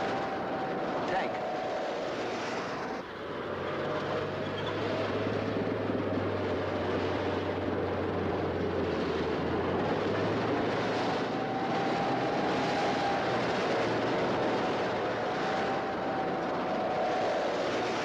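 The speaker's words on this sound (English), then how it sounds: "Tank." A World War II tank rumbles with a low, continuous engine drone and mechanical grinding. A high whine rises and falls above it, and a brief voice is heard.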